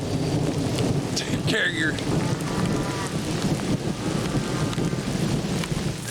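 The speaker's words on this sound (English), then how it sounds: "But it's starting to rain." Steady rain with low rumbles of thunder falls over a sweet potato patch outdoors, a continuous hiss and patter filling the scene while a person speaks briefly.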